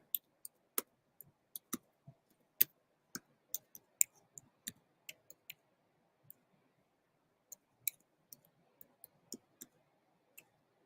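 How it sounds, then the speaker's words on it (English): Sharp, irregular clicks tapped out in quick bursts with short pauses, like keys being pressed on a keyboard close by in an otherwise quiet room. "Let me type what I was typing first"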